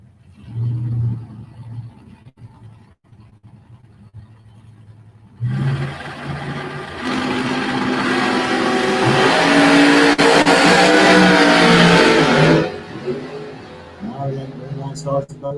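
Chevy II Nova and 1991 Ford Mustang drag racing down the strip: a loud sustained roar of high-revving engines launching and pulling hard for several seconds, then fading, with an announcer talking before and after.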